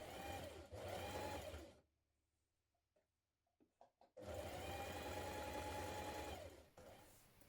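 A sewing machine top-stitches a blouse placket in two close, steady runs of rapid whirring, separated by a quiet pause with a few small clicks and fabric handling.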